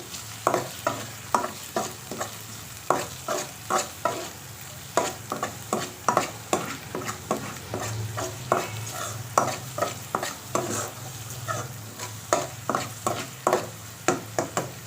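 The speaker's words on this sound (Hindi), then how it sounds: "1 मिनट इसको अच्छे से भूनेंगे हम, ताकि इसकी स्मेल ना आए" Spices frying in oil for chicken malai handi crackle steadily in a pan while a spoon scrapes and stirs in regular, close strokes.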